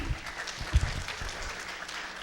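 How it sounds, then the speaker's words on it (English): Audience at an evening school program applauding a presenter, a faint, fairly even spatter of clapping heard from a distance with one sharper thump midway. "You're clapping for Ms. Panasovic."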